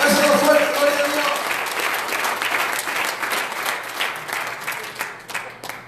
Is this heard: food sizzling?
no